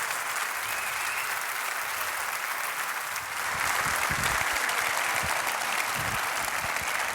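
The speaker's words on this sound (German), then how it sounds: "Großen Applaus für" Sustained audience applause at a Change Mindset keynote in Stuttgart, a dense wash of many hands clapping that grows louder about halfway through, with no speech.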